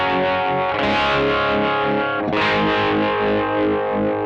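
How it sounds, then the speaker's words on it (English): Electric guitar through an OPFXS Electric Vibe, a three-knob univibe-style pedal, sustains a thick, slightly overdriven chord with a throbbing, pulsing vibe modulation and a fresh strum midway. "basically a 3-knob vibe pedal"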